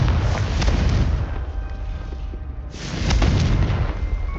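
In the Hogwarts Legacy game, the Confringo fire spell detonates in a loud, booming roar that surges, dips briefly, then swells again in a second heavy blast.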